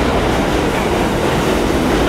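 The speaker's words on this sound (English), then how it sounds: "I'm waiting for the train coming." A train pulls into a platform with a loud, steady rumble and roar of rolling wheels that fills the whole stretch, with no voices over it.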